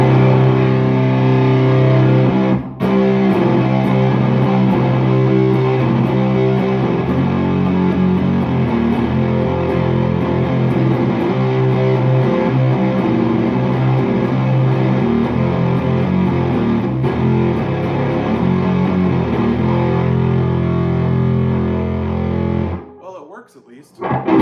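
Electric guitar played through a Bonfire fuzz pedal, thick saturated distorted chords ringing loudly and sustaining for over twenty seconds, with a brief break early on and a sharp cutoff near the end, no voice heard.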